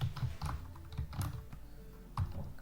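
Quiet, irregular keystrokes on a computer keyboard as someone types a command into a cloud console, soft clicks in short bursts at close range.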